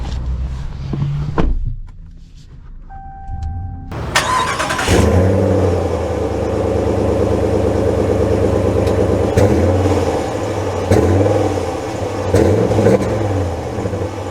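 A 2024 Ram 1500 Laramie Night Edition pickup truck fires up after a brief quiet stretch with a short whir, then its engine settles into a loud, steady run with a few rises and dips in pitch.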